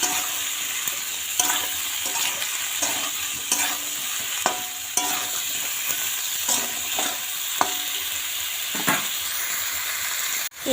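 Turmeric powder and salt being stirred in a hot frying pan, a steady sizzling hiss with repeated scraping strokes of the spoon at an uneven rhythm, close and fairly loud, with no talking.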